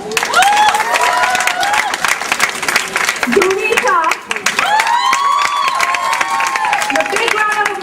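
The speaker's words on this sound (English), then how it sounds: "A big round of applause for all of the girls." Loud, sustained applause and clapping from an audience at an annual day program as dancing girls take the stage, with cheers and excited shouts layered in and an announcer's voice speaking over the crowd.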